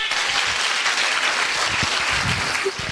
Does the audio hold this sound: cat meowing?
no